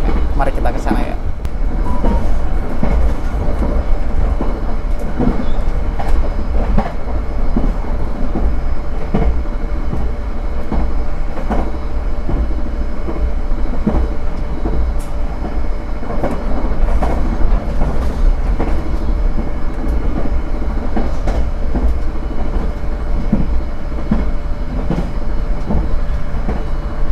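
The Argo Cirebon passenger train runs on rails with a loud, constant rumble and rhythmic wheel clatter throughout, heard from inside the carriage as a voice talks over it.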